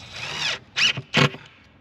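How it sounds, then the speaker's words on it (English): A cordless drill drives a screw into a bracket on a ready-to-assemble bathroom vanity cabinet, whirring in three quick close bursts, one longer pull followed by two short pulses. "you take and you can put a screw in"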